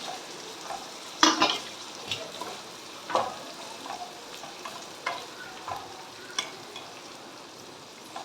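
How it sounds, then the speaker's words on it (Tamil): Spicy butter chicken pieces roasting in a pan, with a steady sizzle and frying hiss broken by irregular clinks and scrapes of stirring, close and without talk. "நல்லா ப்ரௌனிஷ் ஆகிற அளவு நம்ம நல்லா ரோஸ்ட் பண்ணிக்கலாம்."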